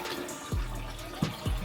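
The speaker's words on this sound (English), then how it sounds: "nice and gently pour all that milky water" Milky rice-rinsing water poured gently out of a pot, a close, soft splashing trickle with a few gulping glugs, no voices.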